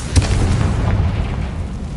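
A Confringo blasting spell explodes in the Hogwarts Legacy video game with one sharp, loud boom up front, followed by a rumbling, fading tail of debris noise, with no talk.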